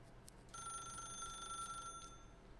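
A telephone ringing in the video game The Stanley Parable: Ultra Deluxe, a steady electronic bell tone holding for over a second amid quiet room ambience, faint and without speech.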